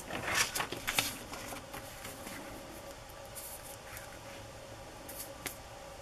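Scissors snip a corner off a paper tag, with a few crisp, close cutting sounds early on followed by quieter rustling and handling of paper.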